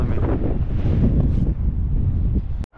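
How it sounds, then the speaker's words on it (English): Heavy, close wind buffeting on a microphone while fly fishing for smallmouth bass, a loud continuous rumble that cuts off abruptly at the end. "Oh, that wind is killing me."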